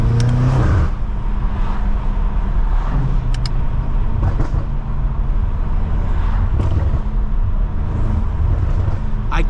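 A 700 hp BMW F90 M5 Competition with a new exhaust pulls hard on a drive, its engine droning loudly and steadily throughout, with brief shifts and a few faint clicks inside the cabin.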